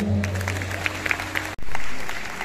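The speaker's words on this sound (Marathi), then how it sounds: "जोरदार टाळ्या।" Loud applause from an audience welcoming a minister at an evening music concert, dense clapping filling the first half before a brief cut and a fresh swell of clapping.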